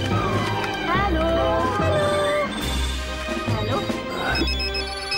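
A telephone rings in a cinema auditorium, its repeated electronic ring tone sounding loud and close over ongoing talk and background music.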